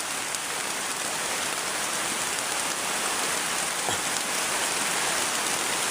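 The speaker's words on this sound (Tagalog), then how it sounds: "Sobrang lakas talaga ng ulan mga idol." A dense, steady roar of heavy mountain rain fills the whole stretch, close and loud with no pauses and no talking.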